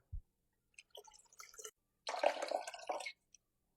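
Water is poured into a blender holding dates, almond milk ingredients, vanilla extract and sea salt, giving short liquid splashes and a close, bubbling pour of about a second, then quiet.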